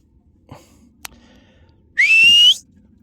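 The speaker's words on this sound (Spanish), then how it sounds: "Vamos a meter un silbido a aquellas que bajen para abajo." A single loud, sharp human whistle calling goats rings out for about half a second after a few faint clicks and rustles in quiet countryside surroundings.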